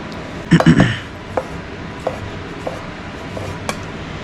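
A knife chops onions on a board, starting with a quick cluster of close crisp chops, then a few lighter isolated taps spaced out over a quiet room.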